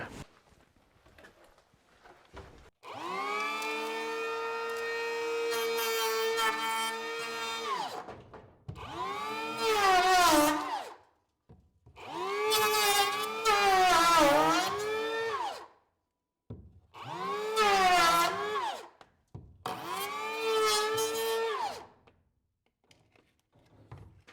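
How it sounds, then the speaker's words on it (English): A power planer shaves down the end of a wooden beam during structural repair in a 150-year-old farmhouse: five loud, close bursts of whining motor, each spinning up, shifting pitch under load, then winding down between short pauses. "So we'll just plane a little area down, just a whisker, get all the ends nice."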